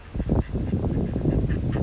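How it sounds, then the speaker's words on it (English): Ducks quack in a busy, overlapping cluster nearby outdoors in Tokyo during a storm, steady and moderately loud with a constant background rumble. "Here we have ducks"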